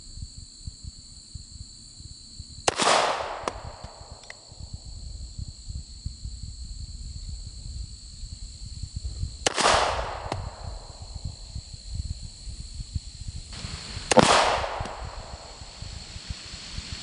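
Three sharp shots from a Smith & Wesson Model 52-2 Target Master firing .38 Special wadcutter loads ring out outdoors, spaced several seconds apart, each followed by a brief decaying echo over steady insect chirping.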